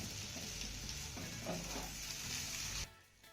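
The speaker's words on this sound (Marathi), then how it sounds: "हाय फ्लेमवरती ही भेंडी आपल्याला एक ते दोन मिनिटं चांगली परतून घ्यायची आहे" Okra stir-frying in a pan on a high flame gives a loud, continuous sizzle with scraping and tossing sounds, cutting off abruptly near the end.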